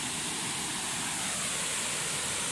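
Waterfalls on a walking trail in the Aisne roar after fresh rain, a dense, constant broadband rush close by with no break.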